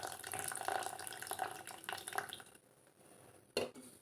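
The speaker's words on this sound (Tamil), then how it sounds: "இந்த புளி தண்ணியை வந்து இதில் விட்டுக்கலாம்." Tamarind water is poured into a cooking pot of bitter gourd sambar, a soft steady trickling splash for a few seconds that stops, followed by one brief louder clink or splash near the end.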